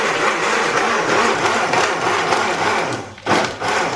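A blender crushing ice grinds loudly and steadily, with a brief dip near the end before the motor roars back up.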